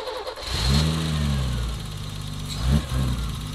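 A BMW E30 left idle for five years cranks and catches, its engine roaring up loudly close by, then settling into a rough idle before a second brief rev.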